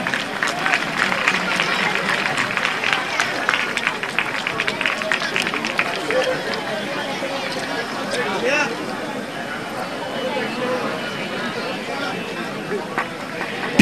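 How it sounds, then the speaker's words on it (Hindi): An audience at a school prize-giving during a Saraswati festival claps to welcome winners, a dense, continuous wash of applause mixed with crowd babble that stays loud throughout. "विजेताओं का स्वागत तालियों से करें।"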